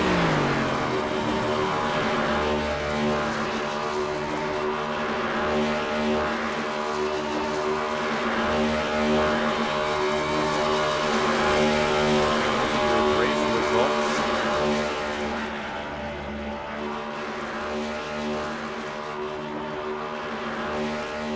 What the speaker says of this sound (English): Burnouts here for you.